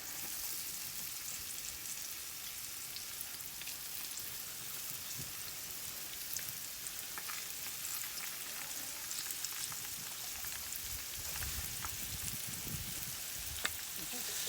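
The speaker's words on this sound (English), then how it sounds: "We're going to put the skin side down in the grease" Breaded wild duck frying skin side down in hot grease, a continuous crackling sizzle with scattered pops and spits, steady and moderately quiet throughout.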